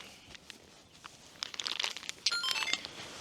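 A plastic bag crinkles and rustles in short crackly bursts, growing louder toward the end after a quiet start, outdoors on a riverbank while feeder fishing on the Dnipro.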